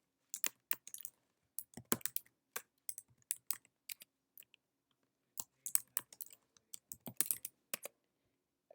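Password being typed on a computer keyboard during an online sign-up, heard as bursts of quick, close key clicks with short pauses between runs and no talking.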